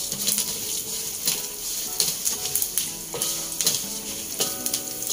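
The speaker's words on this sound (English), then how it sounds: "I'm going to add in the spices and stir fry for a while" Spices stir-fried in a pan in fragrant oil for a crunchy spicy cornflakes snack, with a continuous sizzle and repeated scraping stirs of the utensil against the pan, close and fairly quiet, with no talk.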